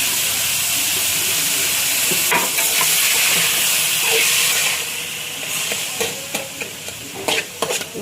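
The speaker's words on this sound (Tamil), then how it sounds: "வெங்காயம், கேப்சிகம், தக்காளி எல்லாம் போடுறோம். நம்ம நல்லா இதெல்லாம் வதக்குறோம்." Onion, capsicum and tomato sautéing in a hot pan, with steady loud sizzling and hissing up close, then a run of spatula scrapes and stirring knocks as the vegetables are tossed.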